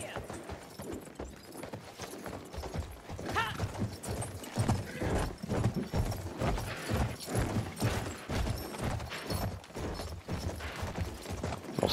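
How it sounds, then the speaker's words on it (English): Horse hooves gallop in the World War I shooter Battlefield 1 in a rapid, continuous clip-clop. The rhythm is loud and close and sits under game noise, with a brief whinny. "We'll stop up here with the horse and then look."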